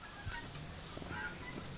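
A crested chicken clucks faintly in a poultry area, with a few soft, scattered fowl calls over a quiet background.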